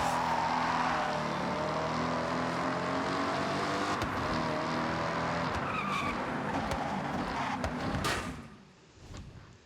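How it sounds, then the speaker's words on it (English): Engine of a Honda S2000 in the Forza Horizon racing game, a loud sustained drone with rising and falling revs and tire squeal, running steadily for about eight seconds before dropping away near the end. "I'm driving an S2000, it's not the most difficult car in the world."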